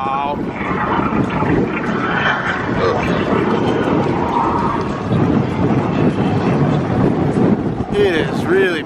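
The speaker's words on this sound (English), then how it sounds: "Wow, the wind is really blowing hard." Strong wind gusts roar steadily across an outdoor waterfront shopping area with trees and whitecapped water, loud buffeting on the microphone throughout, with brief voices near the end.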